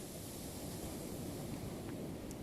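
Ocean surf at a beach rolls as a faint, steady wash of broadband noise, distant and continuous with no distinct breaking crashes.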